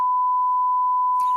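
Censor bleep of the kind used on broadcast TV, a single loud steady pure tone lasting over a second, ending in a brief burst of noise.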